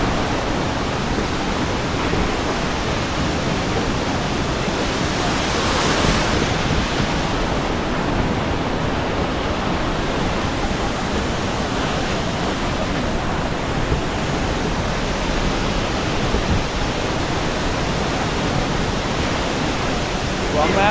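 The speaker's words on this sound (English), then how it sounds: "Khlong Lan waterfall." Khlong Lan waterfall in flood roars as a dense, constant wash of rushing water, loud and unbroken for the whole stretch with no clear voices.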